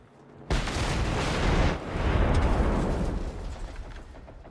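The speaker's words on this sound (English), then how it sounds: "Have a grenade, you cheeky bugger!" A grenade blast in the video game Generation Zero: a sudden heavy boom that starts abruptly, rolls on for several seconds as a dense rumbling roar, then slowly fades, with no talk over it.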